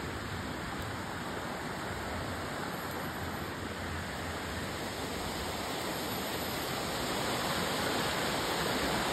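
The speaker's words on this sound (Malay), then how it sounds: "kita sedang berada di satu tempat rimba ini tempat air terjun yang sangat bahaya untuk budak-budak" A jungle waterfall roars as a dense, steady rush of falling water, constant and even throughout, fairly distant and with no voices over it.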